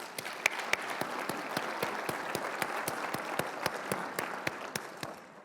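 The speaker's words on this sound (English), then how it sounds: "let's give that a round of applause" An audience at a conference opening session applauds, a moderate, sustained patter of clapping with distinct, sharp claps popping out near the front, tapering slightly toward the end.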